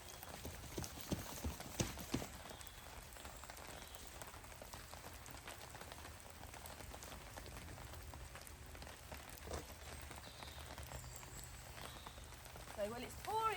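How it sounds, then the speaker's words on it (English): Heavy rain pours steadily through a Dorset forest at a wild camp, a dense continuous hiss of drops on leaves and ground with occasional louder close spatters, no voices heard. "it's pouring with rain"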